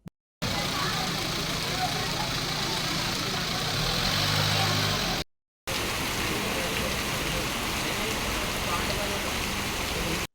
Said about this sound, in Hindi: कल और आज हुई झमाझम बारिश से शहर तरबतर नजर आया।